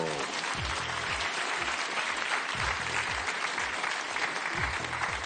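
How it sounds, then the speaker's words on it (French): Studio audience applause on the French TV game show Mot de Passe on France 2: a dense, steady wash of clapping that fills the whole stretch, with faint low voice-like tones underneath. "Applaudissements."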